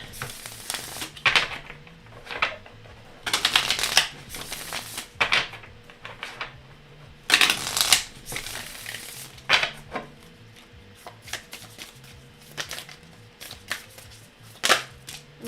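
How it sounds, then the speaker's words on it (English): Oracle cards from an Enchanted Blossoms deck being shuffled and drawn, with repeated bursts of crisp riffling and flicking that stop and start at close range, separated by short quiet gaps. "Savannah, I'm going to pull you a card."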